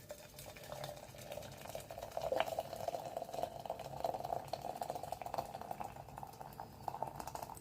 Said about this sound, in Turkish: Kaynayan suyumuzda hemen alttan şöyle demliğimize suyumuzu alıyoruz